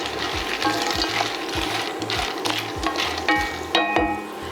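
Chickpeas roasting with smoky paprika in a skillet get stirred, a steady crackling sizzle broken by repeated scraping strokes and clicks of the spoon against the pan, close and fairly loud, with no voices.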